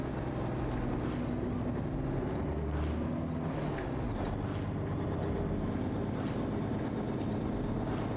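Air brakes on a truck in American Truck Simulator hiss and chuff several times over a steady low engine and road rumble, with no voices.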